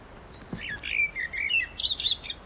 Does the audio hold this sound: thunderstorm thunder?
no